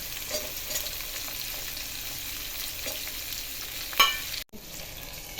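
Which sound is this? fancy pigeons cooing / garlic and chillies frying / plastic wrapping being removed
garlic and chillies frying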